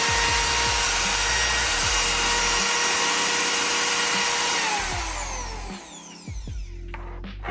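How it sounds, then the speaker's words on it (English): An electric drill runs continuously on power from a vehicle solar inverter in an overland setup, a steady loud whine with pitch shifts as it speeds and slows, tapering off near the end. "So let's try a drill here."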